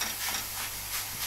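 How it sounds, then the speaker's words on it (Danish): Ground meat sizzles in a pot for a pasta meat sauce alongside onions, a steady bright hiss with faint crackles and soft stirring, fairly close and continuous, with no talking. "Hør, hvordan det syder."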